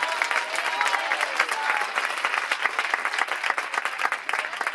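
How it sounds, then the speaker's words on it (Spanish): Church congregation clapping in praise to Jesus, a steady dense wash of many hands applauding throughout, fairly close and lively, with faint voices mixed underneath. "palmas para o Senhor Jesus bem alegre"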